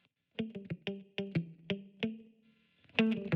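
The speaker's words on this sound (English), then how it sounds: "Here's some treble boost." Electric guitar playing short, bright, punchy notes in a choppy rhythm, with a sharp trebly bite and a brief ringing pause before a final burst.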